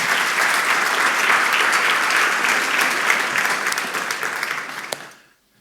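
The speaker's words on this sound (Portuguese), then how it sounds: "Aplauda bem forte a Jesus" A church congregation applauds loudly and steadily at a Sunday service, the clapping holding strong before fading quickly to near silence at the end.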